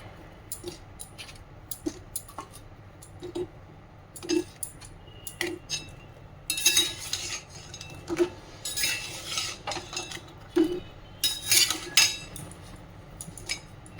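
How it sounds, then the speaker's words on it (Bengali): A metal spatula scrapes and clinks against a pot while sweets are stirred through sugar syrup, with irregular taps and a few longer bursts of scraping, close by and without talk. "আর খুন্তির সাহায্যে চিনির রসটা চালিয়ে দিতে হবে।"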